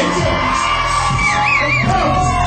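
Rowdy crowd at a Garden City show whooping and yelling in a loud continuous roar, with a shouted voice rising above the noise.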